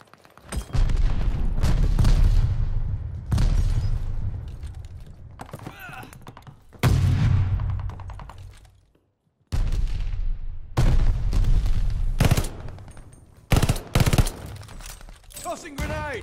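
Explosions and bursts of gunfire fill a free-for-all video game match, with loud booming blasts and rapid shots in several heavy clusters separated by brief quiet gaps, and a voice sometimes heard among them.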